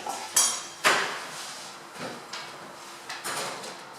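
A kitchen oven door is handled while a spaghetti bolognese goes in, with a sharp clunk, a second heavy thud and a few softer knocks and scrapes nearby.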